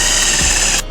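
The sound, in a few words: drilling screws into fiberboard for RV camera mount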